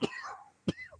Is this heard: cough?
yes